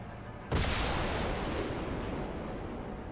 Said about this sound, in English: what they're not expecting is a hail of gunfire to come their way